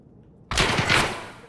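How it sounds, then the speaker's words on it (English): A sudden burst of rapid gunfire in the video game Escape From Tarkov erupts after a short silence, a fast rattling volley of shots that rings out and slowly fades. "right as I get in, there's already gunshots."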